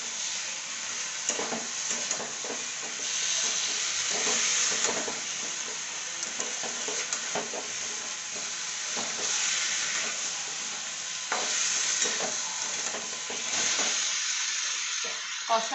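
Food sizzles and crackles in a hot pan while being stirred, steady frying hiss broken by repeated scraping strokes, close and fairly quiet, with no voices.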